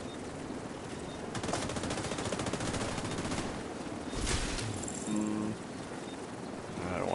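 A light machine gun fires in a video game, sounding as bursts of rapid automatic gunfire mixed into steady game ambience, with a voice heard briefly.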